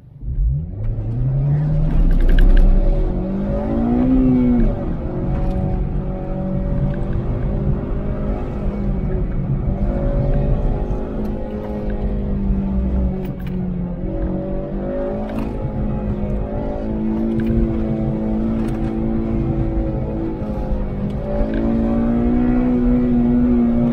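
Autocross race car number 11 KMS at an SCCA event, its engine revving hard through the course with rising and falling pitch as it accelerates, lifts and shifts, loud and sustained for the whole run.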